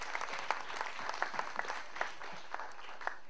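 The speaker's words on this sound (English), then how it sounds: "Ladies and gentlemen, please clap for him." A modest audience at an Indian Overseas Congress gathering in Leicester claps for a welcome speaker, a steady, fairly quiet patter of many hands with a few sharper individual claps, heard from a short distance.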